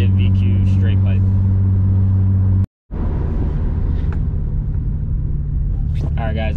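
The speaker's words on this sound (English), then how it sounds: "fourth gear, you know, you still got a deep tone" A car with a VQ engine cruising in fourth gear gives a loud, steady deep exhaust drone with heavy low rumble, briefly cut off midway, while someone talks over it.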